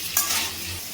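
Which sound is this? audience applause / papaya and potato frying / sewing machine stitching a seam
papaya and potato frying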